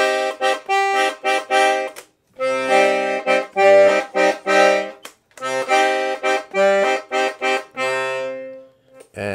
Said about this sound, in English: We've got five reeds in the bass. They sound like this.